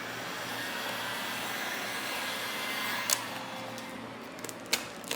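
A heat gun blows a steady, even whoosh close by while vinyl wrap is warmed on the trunk of an Elantra N, with a few faint clicks and crinkles from the film near the end.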